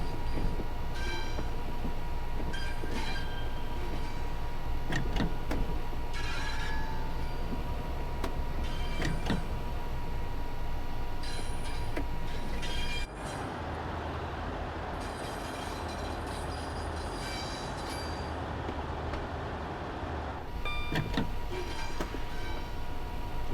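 Rattling train ride on the West Coast Main Line in the video game Train Sim World 6, a continuous loud rumble with clattering wheel noise and a brief change in tone partway through, no speech.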